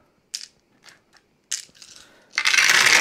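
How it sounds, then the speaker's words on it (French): Dice for the Minos Bronze Age board game clatter in scattered bursts of small hard clicks, then a dense rolling rattle of a large handful of dice tumbling together at the end. "il va falloir lancer tout ce paquet de dés"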